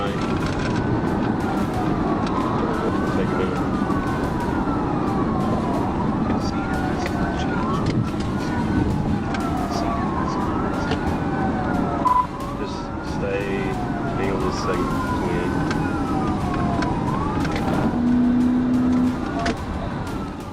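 Police car sirens wail in a repeating rise-and-fall cycle during a high-speed chase after a fleeing Kia weaving through highway traffic. The sirens sit steadily over constant road and engine rumble, with some voices underneath.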